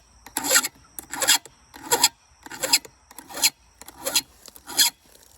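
A hand file sharpens chainsaw chain teeth in seven evenly spaced rasping strokes, each a close, bright scraping swipe separated by short pauses.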